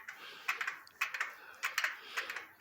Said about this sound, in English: mostly that clicking is actually from the door itself